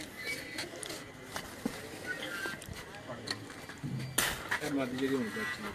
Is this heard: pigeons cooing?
yes